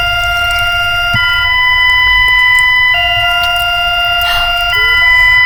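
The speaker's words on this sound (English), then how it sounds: "I've heard sirens before." Loud, steady EAS emergency alert alarm tone with stacked harmonic pitches, holding continuously and shifting pitch a few times, with a faint hum underneath.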